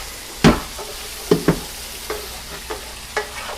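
A pan being deglazed while cooking squash for brown butter sage bucatini, giving several short sharp bursts of sizzle and stirring scrapes spread across a low steady background hiss.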